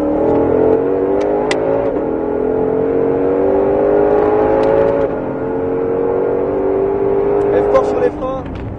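A Ford Mustang GT500 accelerates hard on a race circuit, its engine note climbing loud and close through a sustained rising drone before easing off near the end.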